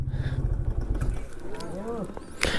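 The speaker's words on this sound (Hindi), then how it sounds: "एक बार बाइक दिखाते हैं क्या दिक्कत इसमें आ रही है, क्यों ये इतनी आवाज़ कर रही है" A motorcycle engine, recently serviced yet running noisily, chugs with a rough, pulsing idle, then fades under nearby voices talking.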